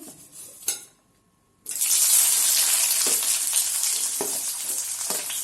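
Onions dropped into hot oil in a kadhai burst into a sudden, loud sizzle that continues as a steady crackling hiss, with a few faint clinks beforehand.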